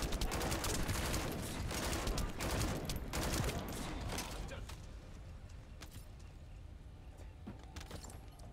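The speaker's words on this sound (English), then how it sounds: "I'm just shooting. I shoot gun, I do damage." Sustained automatic gunfire in The First Descendant, dense rapid shots that are loud at first and then thin into scattered, fainter bursts, with some faint voice underneath.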